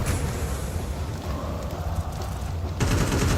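In a Counter-Strike 2 match, rapid sustained gunfire spams loudly and continuously, dense and close, then a sharper burst at the end.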